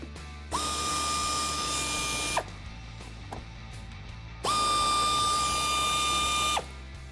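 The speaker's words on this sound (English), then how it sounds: "we're using a 10mm socket and reusing that factory 10mm hardware" A ratchet with a 10mm socket spins off factory bolts on a Tacoma mud guard: two sustained whirring, clicking runs of about two seconds each, close and loud, with a brief pause between them and no talking.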